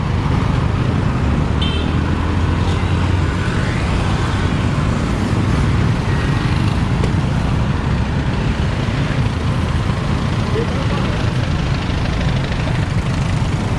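Roadside traffic in Cambodia, with a car and a passing vehicle rumbling by amid continuous engine and road noise, loud and close throughout with no clear gaps.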